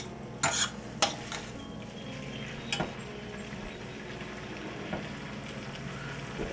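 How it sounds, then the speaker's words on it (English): Drained homemade fresh pasta tossed back into a metal pot, giving a few sharp clanks early, then softer scraping and stirring noises against a quiet background. "I'm going to add the pasta back in. Toss it around some."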